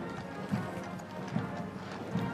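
A drum horse in the 2022 state funeral procession of Queen Elizabeth II in London clip-clops at a slow, steady walking pace, its hoof strikes soft and regular beneath a broad crowd and outdoor hum.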